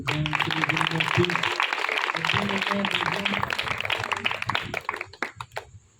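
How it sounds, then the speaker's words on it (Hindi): Applause from a church congregation, clapping hands mixed with loud speech and voices over much of it, the clapping fading out toward the end. "जोरदार तालियां।"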